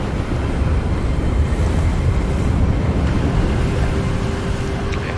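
Steady wind gusts through a Harry Potter role-playing game scene, a broad continuous rush with a faint tonal whistle, no voices.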